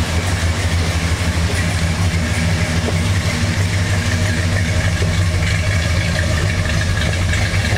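A 1967 Dodge Coronet R/T engine idles steadily close by, a deep, rumbling and continuous drone at even loudness with no voices over it.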